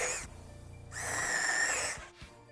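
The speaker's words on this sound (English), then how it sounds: "I could then drill out a hole at each corner as a relief for the jigsaw" A power drill bores relief holes at the corners of a cabinet side panel for a jigsaw cutout. A brief whine is followed by a longer steady burst of about a second, fairly close and with no talking.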